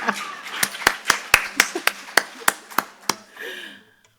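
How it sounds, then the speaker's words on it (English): A small audience at a community history class claps in an even, rhythmic beat, about a dozen sharp, close claps that die away after a few seconds, with faint murmur underneath. "I'm happy we applauded for that."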